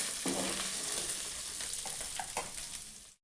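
Dried fish fries in hot oil, giving a loud, dense, crackling sizzle with a few small pops that fades slightly before cutting off abruptly.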